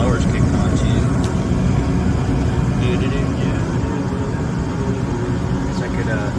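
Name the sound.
gas furnace blower running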